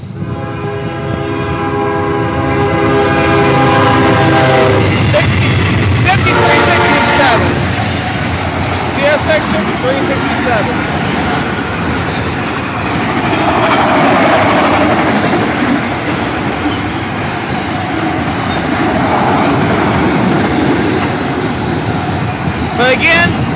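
A CSX freight train passes close and loud, opening with a long blaring horn, followed by a steady roar and rumble of rolling railcars that lasts to the end.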